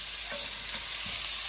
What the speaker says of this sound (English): in the same pan, we're going to add the onions. And we're going to let that saute for a few minutes